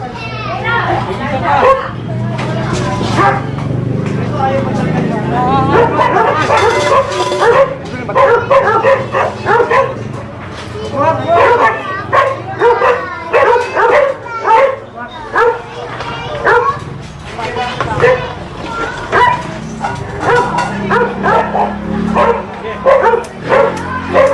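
A dog barks and yips repeatedly, sounding close, mixed in with people talking and shouting nearby, with children's voices in the background of an outdoor scene.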